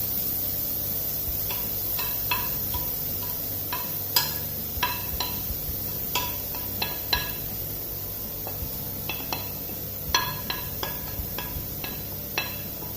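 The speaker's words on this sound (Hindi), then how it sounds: "सो इस कॉलीफ्लावर को हम तब तक भूनेंगे जब तक ये थोड़ा गोल्डन" Grated cauliflower sautéing in hot ghee in a pan, a steady low sizzle broken by frequent sharp clicks and scrapes of a spoon stirring against the pot, close and unaccompanied by talk.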